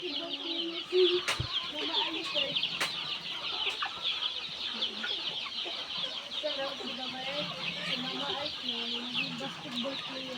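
A large flock of native and Red Island chickens in farm coops clucks continuously at moderate distance, many overlapping short calls with a couple of sharp knocks and a steady high background chatter.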